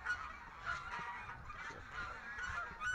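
Canada geese honking repeatedly somewhere off at a moderate distance, the calls overlapping against a steady outdoor background noise.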